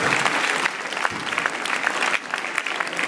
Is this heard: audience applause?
yes